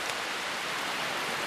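Heavy rain pouring steadily outdoors, a dense continuous hiss that stays loud and even from start to finish.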